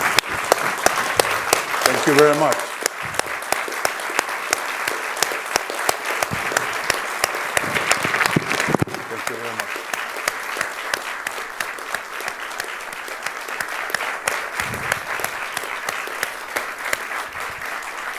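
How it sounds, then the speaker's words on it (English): An audience applauds Costa Rica's President at a fireside chat event, sustained clapping filling most of the stretch, with someone briefly speaking over it near the start. "may we applaud the President"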